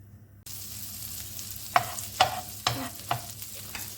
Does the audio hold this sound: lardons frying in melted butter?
yes